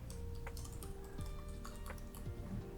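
Keystrokes on a computer keyboard, a light scattering of quick taps in an irregular rhythm, close and fairly quiet over a faint steady background hum.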